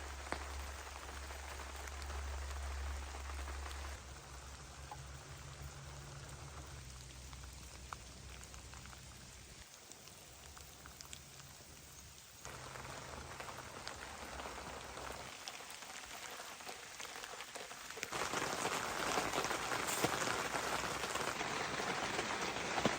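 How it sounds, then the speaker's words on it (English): Heavy rain pounds an SUV during solo car camping beside the Mississippi River, a continuous close drumming and patter on the roof and windows that shifts in intensity and swells louder toward the end, with no voices. "It's raining pretty good out there."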